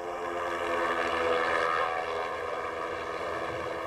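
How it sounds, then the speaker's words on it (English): Two small airship engines drone steadily at full power, a continuous buzzing propeller-like growl with no pauses. "Growling to full power, the two small engines struggle under the added weight"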